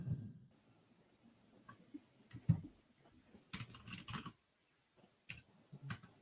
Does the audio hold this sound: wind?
no